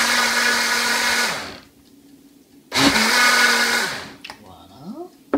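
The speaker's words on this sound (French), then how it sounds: "On passe au mixeur." A blender blitzes chocolate tart filling made with bitter cocoa, running loud and steady for over a second, stopping, then roaring again in a second burst before winding down into brief clatter.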